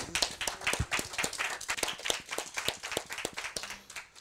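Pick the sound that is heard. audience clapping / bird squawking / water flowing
audience clapping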